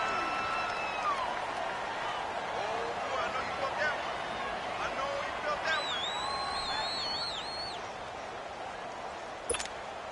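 Arrowhead Stadium crowd in a PS4 football video game, a constant dense roar of massed fans with whistles and rising tones on top, under a commentator's speech.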